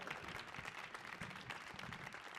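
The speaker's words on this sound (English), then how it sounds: "Yeah, round of applause for Zita." Audience applause fills a spoken-word poetry performance at the Kennedy Center, a steady, dense patter of many hands that stays fairly faint and even throughout, with no voices on top.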